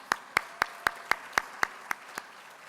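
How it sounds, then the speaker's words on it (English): About ten slow, evenly spaced claps ring out one after another, sharp and fairly close, after a call for applause for Captain Davila at an awards gala, with quiet between them and no talk. "Another round of applause for Captain Davila."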